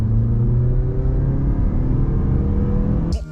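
A Mazda CX-50 Select with a naturally aspirated 2.5-liter engine pulls forward under throttle, a loud steady cabin drone with rising engine tone and a sudden rustle at the end, no talking.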